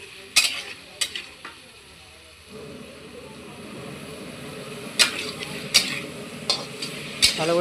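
Potato, eggplant and pumpkin stir-fried in a pan with water added, a steady low sizzle rising after a couple of seconds, broken by several sharp spatula scrapes and clinks against the pan.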